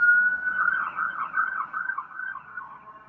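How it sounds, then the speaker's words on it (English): A police car or ambulance siren wails faintly in the distance, its tone rising and falling in a steady repeating pattern, heard alone without talk. "I hear a police car"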